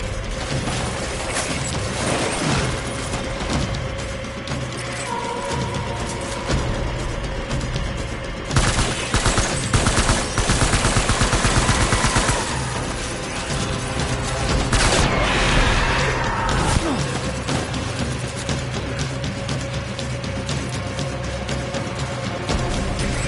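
Gunfire in Death Stranding Director's Cut: loud, dense bursts of shots and mechanical clatter that run almost without a break, with heavier volleys in the middle over constant game noise.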